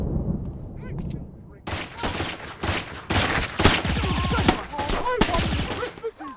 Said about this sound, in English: I'm shooting this guy down.